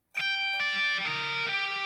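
A distorted black metal electric guitar sweep-picked so the notes ring together like a smeared chord, played loud and alone in a short burst with a couple of fresh attacks.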